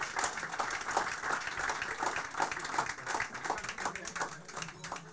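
An audience at a celebrity talk show in Dinslaken applauds, with dense, steady clapping from many hands that continues at an even level throughout, while a voice speaks over it.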